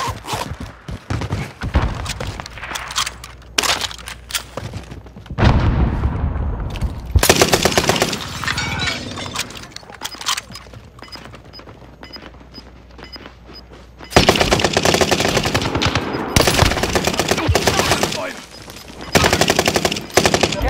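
Bursts of automatic gunfire and single shots in the Caldera video game, loud rapid volleys separated by quieter gaps, with faint voices now and then between the bursts.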